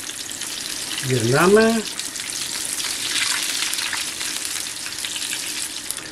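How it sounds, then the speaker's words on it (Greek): Food fries in a pan with a steady, close hiss and crackle of hot oil throughout, and a voice briefly speaks over the sizzling near the start. "Τα αφήνουμε να τηγανιστούν"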